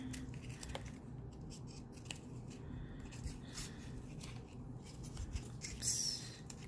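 Scissors snipping an egg carton, producing quiet, close cuts and light rustles of cardboard at a low level throughout, with a brighter crisp snip near the end.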